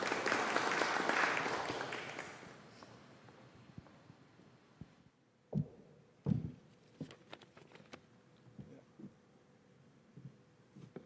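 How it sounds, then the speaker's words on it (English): Applause from an audience at a symposium hall welcoming a session moderator, a dense broadband wash loudest in the first three seconds and then thinning out into scattered claps and faint room noise. "Please give him a round of applause."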